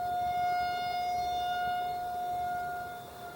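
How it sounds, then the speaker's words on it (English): A distant outdoor tornado siren during a test holds a steady wailing tone, faint and sustained, slowly fading toward the end. "it might be testing day for tornado sirens"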